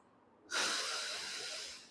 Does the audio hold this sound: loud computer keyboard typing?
no